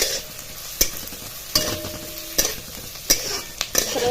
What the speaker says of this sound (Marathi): कांदा चांगला लाल होईस करता परतायचा आहे